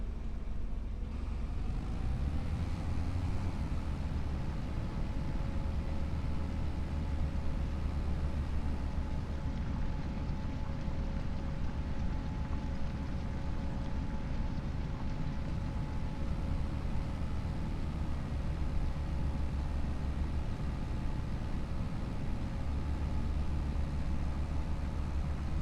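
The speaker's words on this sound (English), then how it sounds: "Yeah, tractors make lots of noise." Tractor engine in Farming Simulator 25 droning steadily for over twenty seconds, a low rumbling hum with a faint whine above it, constant in loudness and heard alone without talking.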